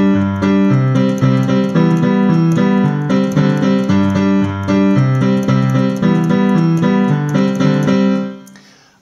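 Keyboard playing a riff with bass notes underneath, dense sustained chords and a steady rhythmic pulse, loud and close for about eight seconds before fading out, no speech.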